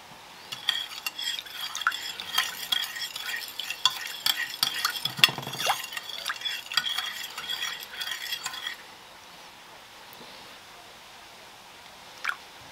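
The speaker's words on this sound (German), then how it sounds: "Jetzt vermische ich das mit kaltem Wasser." Spoon stirring lemon juice and baking soda into cold water in a bowl, a busy scraping and clinking swirl for about eight seconds, then near silence with one faint knock near the end.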